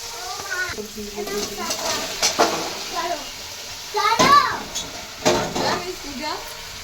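Chilli and ginger paste sautéing in a pan, a soft sizzle under scraping stirring and spoon knocks against the pan, with a voice and other talk heard over it.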